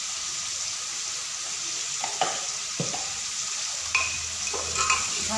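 Fish curry ingredients with salt and turmeric are stirred and mixed in a pan, giving a low steady sizzle broken by a few scraping clinks of a utensil against the pan.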